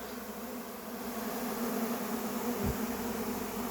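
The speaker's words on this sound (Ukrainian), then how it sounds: "В цьому вулику було 18 рамок з бжолою." Honeybees buzzing densely around a hive holding eighteen frames of bees, a steady, close, continuous drone with no voices.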